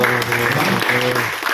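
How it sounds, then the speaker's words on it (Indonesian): An audience claps for Pak Toto at a local discussion forum in Nganjuk, a dense, close round of applause with a low hum or voice underneath, tapering off near the end. "tepuk tangan buat Pak Toto."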